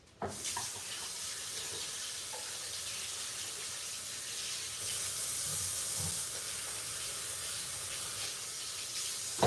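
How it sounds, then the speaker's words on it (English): Tap water runs steadily into a sink while hands are washed, a continuous close hiss with faint splashes and small clatters, no voices. "I'll wash the hands."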